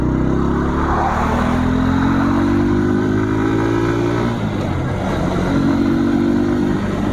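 A Bajaj Pulsar N125, a 125cc motorcycle, cruising at speed near 90 km/h, its engine droning loud and steady with rising gear-pitch sweeps under heavy wind rush, no voices.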